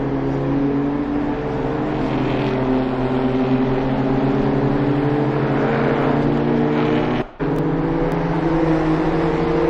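A BMW M2 CS race car in a sim racing qualifying run holds a loud, steady engine drone with strong harmonic tones, briefly dropping out for a gear-change cut before resuming at the same pitch.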